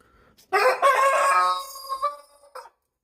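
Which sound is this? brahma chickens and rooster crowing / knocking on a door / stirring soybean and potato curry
brahma chickens and rooster crowing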